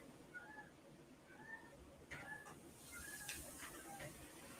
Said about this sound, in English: Can you hear the cat in the background?